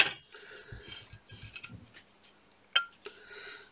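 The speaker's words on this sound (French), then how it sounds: "Vous voyez, vous tapotez en dessous, hop, et voilà, c'est coupé" Light taps on the underside of a scored pane of glass, several small knocks and clinks followed by one sharper crack as the cut snaps, close and quiet with no talk.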